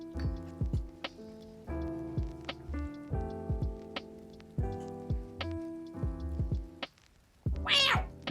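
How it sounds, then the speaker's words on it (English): A female house cat meows again and again, close by, with several drawn-out meows in an uneven rhythm and a sharp, high squeak near the end. "I hope you guys heard her meow."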